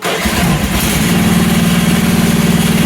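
Small engine of a QH12R mini excavator starting up and then running at a steady, loud, close throb with a rapid regular pulse.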